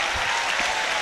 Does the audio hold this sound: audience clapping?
yes